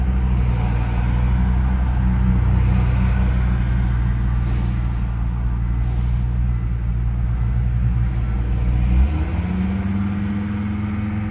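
A car engine runs floored with its mass airflow sensor unplugged, giving a loud, steady drone that drops sharply near the end as the throttle is released and the revs fall.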